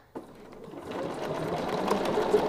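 A sewing machine starts up and runs continuously while quilting a folk heart chain pattern along a template, a steady close mechanical whirr that builds slightly in loudness.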